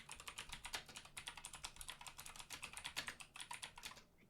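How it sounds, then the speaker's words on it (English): Rapid, steady typing on a computer keyboard by someone wearing rings, dense clicky keystrokes close up and fairly quiet, continuing without pause and stopping just before the end. "It's amazing the speed I can get when I'm typing with my rings on"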